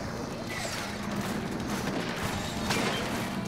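Cannon fire in Splatoon 3 during a Salmon Run Eggstra Work event, a dense chaotic barrage of blasts and splats layered over continuous game noise, with a louder burst near the end.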